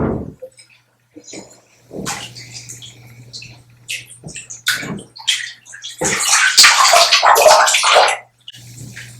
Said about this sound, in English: I am out of the bathtub